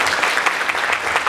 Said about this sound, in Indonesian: Kita kasih tepuk tangan buat Mas Emir, kita mengatasi melibat.